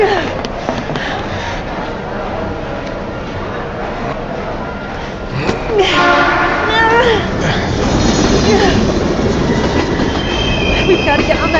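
A train rumbles close in the Heavy Rain video game, its wheels squealing and clattering louder over dramatic in-game sound, with voices speaking over it.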